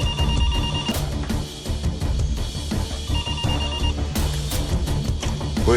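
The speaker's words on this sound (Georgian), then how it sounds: "იქნებ ტელეფონს უპასუხოთ." A home landline telephone rings in repeated bursts in a television drama scene, the ring standing out over a dense, busy background with no speech.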